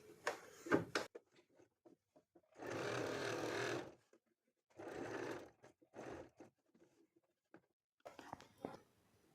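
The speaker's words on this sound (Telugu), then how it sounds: "ఇప్పుడు మీరు పైనుంచి ఒక టాప్ స్టిచ్ అనేది వేసుకోండి" A sewing machine runs a top stitch along cloth while a kurti is sewn, in several close bursts of rapid stitching separated by short pauses and light handling noises.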